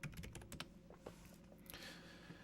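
Rapid keystrokes on a computer keyboard, a close run of crisp clicks with a few louder taps and no speech.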